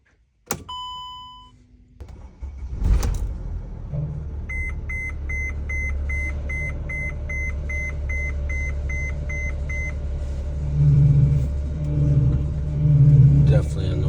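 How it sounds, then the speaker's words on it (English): Dashboard chimes beep before a Mercedes Sprinter van engine cranks and settles into a steady rumbling idle, with an added whine from the faulty power steering pump swelling louder toward the end. "Definitely a noise in the steering."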